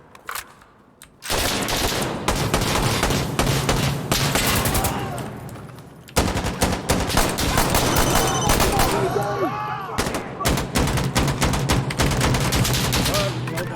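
Gunfire in Insurgency: Sandstorm, long loud bursts of rapid automatic fire broken by brief pauses, with rattling shots and echoes dense throughout.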